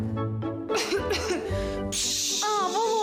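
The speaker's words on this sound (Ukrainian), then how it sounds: "Кашель" A couple of short harsh coughs up close, followed by vocal sounds and a bright high-pitched tone near the end.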